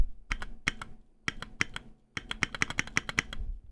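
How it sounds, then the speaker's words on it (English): Computer keyboard keys clack sharply and close in short bursts of typing, several separated strokes, then a pause, then a faster run of keypresses, with no speech. "can sound very harsh, even in comparison to other keys"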